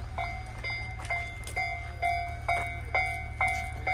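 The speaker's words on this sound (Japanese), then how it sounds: "踏切が鳴りました。" A railroad crossing warning bell rings in a steady repeating two-tone ding roughly twice per second, moderately loud over a low constant hum, with no voices.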